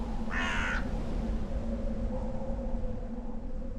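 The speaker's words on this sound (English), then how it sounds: "no birds ever sing, excepting old crows" A single harsh crow caw rings out early, followed by a low steady hum of background noise with no other calls.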